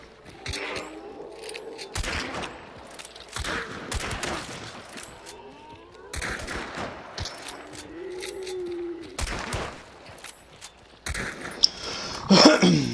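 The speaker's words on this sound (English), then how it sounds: "we're just letting loose on the gunfire now" Bursts of video game gunfire crackle throughout, rapid volleys and single shots mixed with in-game effects, getting louder near the end.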